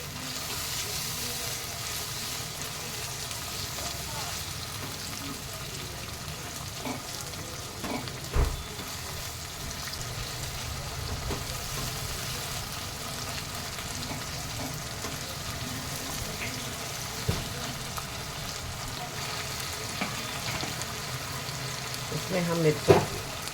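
Tomatoes frying with salt and turmeric in a pan of cluster beans sabzi, giving a steady, soft sizzle throughout with a few brief clinks of stirring.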